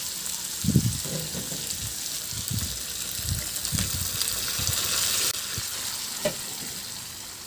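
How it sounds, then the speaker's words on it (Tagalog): Cooked mung beans are tipped into a frying pan holding pork liempo, giving a steady sizzle with a few soft splashy pours and stirring knocks at moderate distance, no talking. "Ilipat ko na din yan doon sa ating kawali na may karne."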